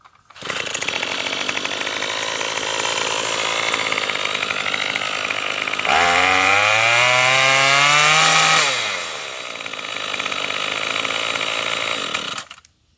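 A Troybilt TB21EC pole saw's small two-stroke engine runs steadily after a carburetor, fuel line and filter replacement, a loud close buzzing drone that revs up for a couple of seconds and then settles back to idle.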